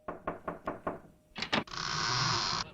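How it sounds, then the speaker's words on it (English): A sound-effect door knock in a hip-hop skit: five firm raps in a steady run, then two heavier thumps, followed by a bright sustained tone, all fairly loud and close with no voices. "That's a good knock noise."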